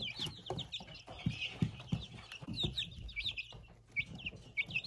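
Livenskaya chintz chicks in a brooder chirp and cheep in a busy, overlapping chorus, with soft low clucks and bumps underneath, close to the microphone and continuous.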